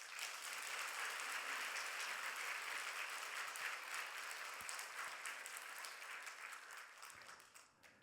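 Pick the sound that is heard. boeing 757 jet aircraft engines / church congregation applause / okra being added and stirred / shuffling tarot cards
church congregation applause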